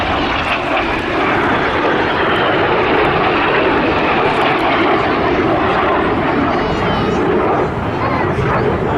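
RAF Red Arrows jets roar loudly and continuously overhead during an air festival flying display, a broad sustained engine rush with no pauses.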